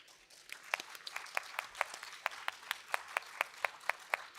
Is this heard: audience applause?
yes